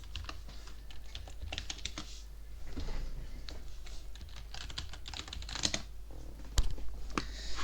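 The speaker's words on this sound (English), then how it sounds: "I'm gonna type it out for you." Fast, steady typing on a computer keyboard, close and fairly loud, with irregular bursts of key clicks and a sharper tap near the end, no voices.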